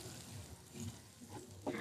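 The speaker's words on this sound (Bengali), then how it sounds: "আমি ডিম 2টো দিয়ে আবার একটু সুন্দর করে ভেজে নেব।" Eggs frying with chicken in a pan for chicken chowmein, a quiet soft sizzle with light stirring scrapes, faint and close, without speech.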